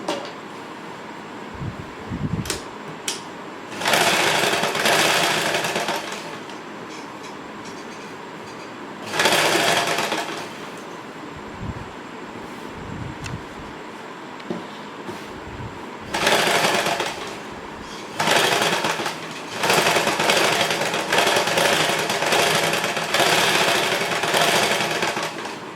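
A sewing machine joins a blouse's neck lining to the main fabric, running in several loud, steady bursts of stitching separated by quiet pauses with small handling knocks.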